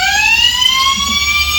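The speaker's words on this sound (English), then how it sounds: "So there's your siren and your lights." A loud electronic siren from a toy FDNY tower ladder fire truck wails close by, its rising tone sweeping steadily upward with no talking.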